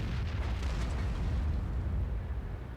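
Deep booming explosion of a high-explosive shell striking a tank in World of Tanks, a heavy low rumble that swells and then slowly decays, loud and close with no talking.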